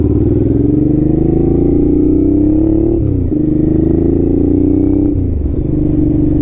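A Honda NT650 Hawk motorcycle's V-twin engine runs loud and close, revving up through gears with a rising drone that dips at two shifts.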